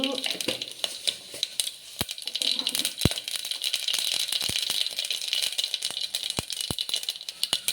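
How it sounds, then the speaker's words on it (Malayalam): Mustard seeds spluttering and popping in hot oil in a pan while cooking potato stew, sharp scattered crackles and pops over a soft sizzle, close and irregular, with a voice talking at times. "കടുക് പൊട്ടി വരുമ്പോൾ"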